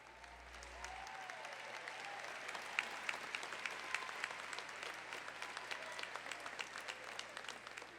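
A commencement ceremony audience applauds standing PhD and master's degree graduates, with a fairly faint, steady wash of many hands clapping for several seconds.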